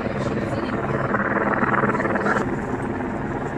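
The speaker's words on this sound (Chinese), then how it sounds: "天上还有直升机在巡逻" A helicopter patrols overhead above a crowd gathered for the New York Thanksgiving parade, its rotor making a steady mid-level drone with a slight pulsing. Crowd voices and speech blend in beneath it.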